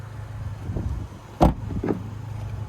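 Two quick mechanical clunks of the child door locks actuating on a 2026 Chevrolet Colorado WT pickup, close by, over a faint steady hum of the idling truck.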